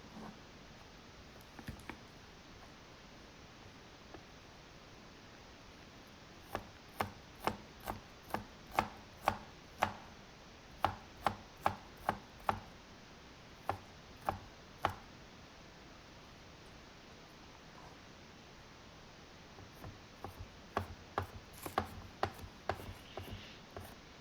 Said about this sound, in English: Mince about 3 to 4 cloves of garlic.